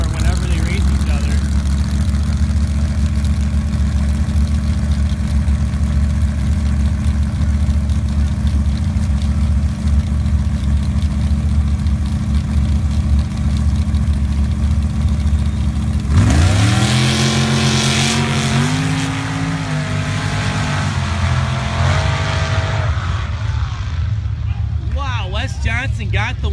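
Drag race cars at a season-opener event on the strip, including Top Fuel exhibition and pro bracket racing: a long steady engine rumble while staging, then a sharp surge of rising engine roar as they launch, with an announcer talking over it.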